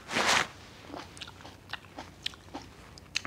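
A crisp bite into a ripe, sweet Shine Muscat grape, one loud crunch followed by several soft, quieter chewing sounds close to the listener.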